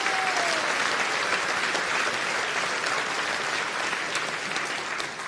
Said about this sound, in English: Big round of applause there.